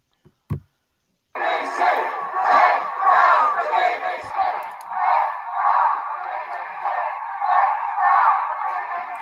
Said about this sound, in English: This is the protest out Trafalgar Square, and listen to what the crowd is chanting